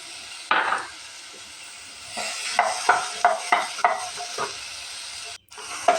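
A spoon stirs mashed sweet pumpkin with chopped medium-sized onions in a hot pan, giving a run of close, rhythmic scraping and clinking strokes over a soft, steady sizzle.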